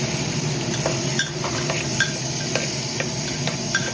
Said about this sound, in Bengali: এবার ভালো করে নাড়াচাড়া দিয়ে